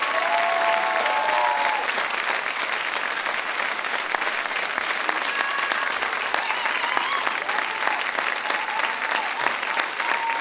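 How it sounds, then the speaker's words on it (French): Sustained applause from a theatre audience after a staged show of La Fantaisie du Docteur Ox, steady and dense throughout with faint voices scattered underneath. "vous pouvez applaudir encore plus fort Marjorie et vos enfants"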